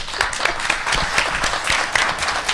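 Lively applause and clapping at a town board meeting, a short burst of many hands with uneven, busy rhythm, fairly close and loud and filling the whole moment.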